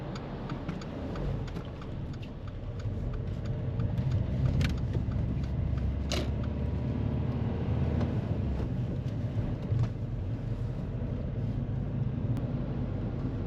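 A grey car approaches along the road, heard from inside a moving learner car as a steady low rumble of engine and tyre noise with faint ticks and rattles, no talk.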